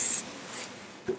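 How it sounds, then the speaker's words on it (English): A single short hiss of hairspray bursts out at the start, close and bright, followed by fainter brief spritzes and a soft rustle of hair being handled. "I'm just going to spray it"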